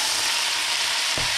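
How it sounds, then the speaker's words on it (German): Ground meat or vegetables browning in a pan for bolognese sauce, a steady close hiss of frying with faint stirring scrapes and a brief clatter near the end, no talking. "Beim Anbraten wird es nicht so viel Sound geben."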